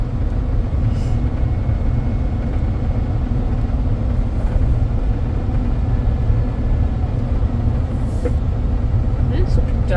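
A 2006 Ford F150 pickup truck driving on the road, a loud, steady low rumble of engine and tire noise filling the whole stretch from inside the cab.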